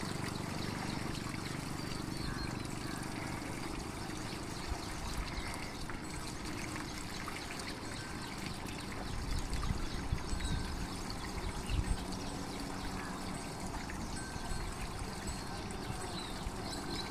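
Water running steadily from an automatic tap into a metal pot, a continuous pouring rush that holds even throughout, with no voices over it.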